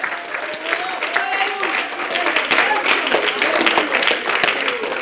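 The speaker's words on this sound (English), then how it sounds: "Give him a hand clap of praise." Church congregation clapping hands in praise during a worship service, dense sustained clapping mixed with voices and shouts throughout.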